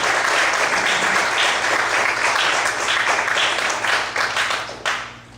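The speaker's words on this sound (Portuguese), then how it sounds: "aplaudir bem forte a mão do Senhor nessa noite" A church congregation applauds loudly and steadily, dense clapping filling the space for several seconds before thinning out near the end.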